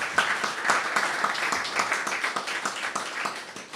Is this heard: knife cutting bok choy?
no